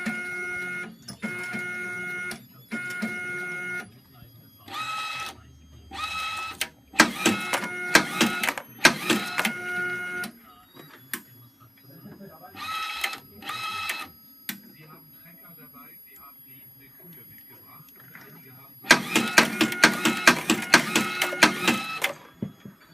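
LAB400 labeling machine with a Zebra ZE500 printer running a 25-piece test, giving repeated bursts of mechanical printing and feeding whirs separated by short pauses, close and clear, with a person talking in between.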